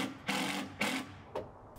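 A power driver sinks 2-inch deck screws into a post-frame shed, giving three short whirring bursts of rising motor whine, close and clear with brief pauses between them.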